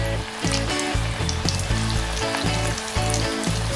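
Potato strips for French fries fry in hot oil over a medium gas flame, giving a loud, continuous crackling sizzle with bubbling pops, heard close and alone.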